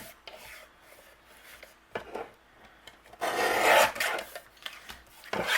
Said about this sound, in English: And I'm going to use my paper trimmer.